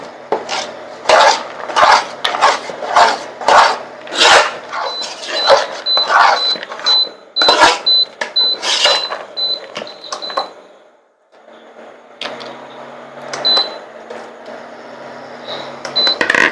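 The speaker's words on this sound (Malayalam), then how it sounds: "നട്ട്സ് ഇട്ട് നമുക്ക് നല്ലതായിട്ട് ഇളക്കിയെടുക്കാം" A spoon scrapes and clatters against a pan while nuts are stirred into thick papaya halwa, giving a rapid, rhythmic run of loud metallic strokes, then a brief pause and a quieter, steadier stirring.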